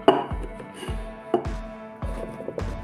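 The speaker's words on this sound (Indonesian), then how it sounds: "aku potong kecil-kecil agar mudah untuk menghaluskannya" A knife chops a carrot into small pieces on a board: a series of sharp, evenly spaced thuds, close and clear, with no talk.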